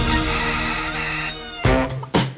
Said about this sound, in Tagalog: Ito ang manok ni Kano Guapo.